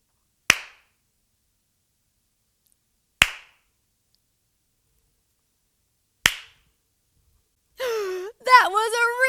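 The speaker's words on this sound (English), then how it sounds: "That was a really loud clap." Three sharp, loud hand claps ring out one at a time, spaced a few seconds apart, in a quiet room. Children's voices follow at the end.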